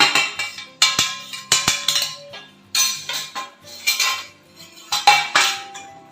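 A spoon scraping and clinking against a pan while stirring melted jaggery with peanuts and sesame seeds over a low flame, in repeated close metallic scrapes and taps with no talking.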